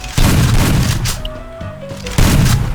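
A grenade explodes in the battle-royale game Free Fire: a loud, close blast opens, tonal game sounds follow during a short lull, and a second heavy boom hits near the end.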